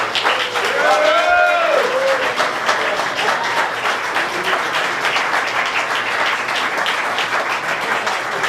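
Crowd at an awards event breaks into sustained, loud applause, with thick and even clapping and a short whistle or cheer rising early over the din.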